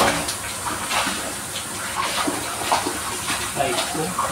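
Hot water running from a kitchen tap, a loud, continuous hissing splash that stays steady throughout with only slight surges and no pauses.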